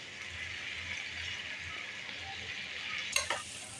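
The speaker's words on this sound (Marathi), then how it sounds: "प्रथम याला आता चांगलं तेल सुटेपर्यंत आपण परतून घ्यायचं आहे" Paneer and peas sautéing in oil give a faint, steady sizzling hiss with soft stirring scrapes, ending in a brief spoon clink against the pan.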